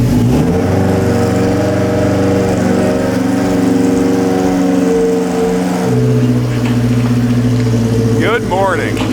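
A 2007 Subaru STI engine cold-starts and settles into a loud, steady idle close by, its pitch stepping down midway, with a voice speaking briefly near the end.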